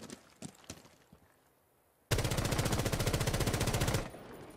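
A sustained burst of rapid automatic gunfire from the video game Rainbow Six Siege, close and loud, lasts about two seconds after a few scattered clicks and quieter game sounds.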